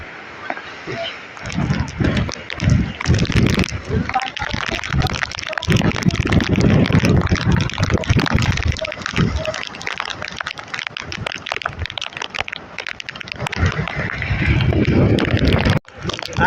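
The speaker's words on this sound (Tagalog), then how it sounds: "Lalo pa naglakihan yung mga alon." Large storm waves surge and slosh against a grounded ship during a sudden typhoon, a continuous loud roar of water and gusting wind with rushing swells, and a voice speaks briefly over the noise.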